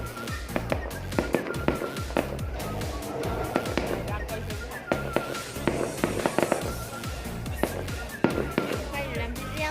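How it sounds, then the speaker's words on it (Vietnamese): Loud, dense New Year's Eve fireworks in mountainous Hoàng Su Phì, Hà Giang, Vietnam, a nonstop barrage of sharp bangs and crackling pops with heavy low rumble, and voices speaking nearby. "Tiếng pháo hoa chát chúa."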